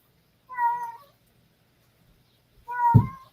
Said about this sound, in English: all the cats want to be inside today because it's cold outside